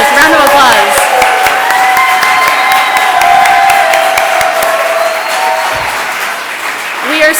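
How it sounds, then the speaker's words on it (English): An audience at a showcase event breaks into loud, sustained applause mixed with cheering and whoops, filling the room continuously for several seconds. "Yes, round of applause."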